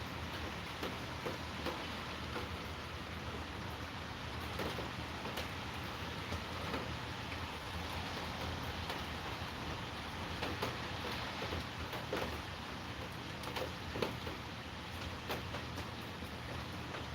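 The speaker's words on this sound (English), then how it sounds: "Look at this rain." Steady rain falls outdoors in a continuous hiss with scattered ticks of drops on surfaces, moderately loud and unbroken throughout, with no one talking.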